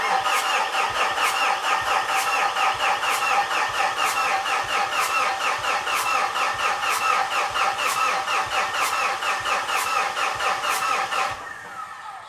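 A Fuso FG truck engine cranks steadily with a rapid, even rhythmic chug from the starter, loud and close, running for about eleven seconds before tapering off, with no speech.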